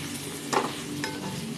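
Pork with taro sizzles steadily in a pan, with two distinct scraping strokes of a spoon stirring the mixture, close and moderately quiet, no voices.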